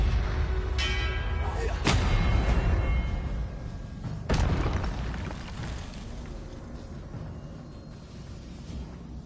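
Confringo blasting-spell explosions in Hogwarts Legacy land as a few loud, sharp bursts with ringing tails over a busy background of game effects.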